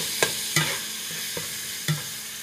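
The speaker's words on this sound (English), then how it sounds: "mix this ground beef up" Ground beef stirred in a pan set to 325, a spoon scraping and pushing the meat in four or five distinct strokes over a low background sizzle.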